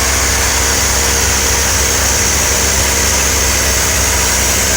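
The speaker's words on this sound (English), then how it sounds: "So I'm going to start the car up" A 1984 C4 Corvette engine runs at a steady idle after starting, a close, loud, even rumble with a constant low hum and no talking.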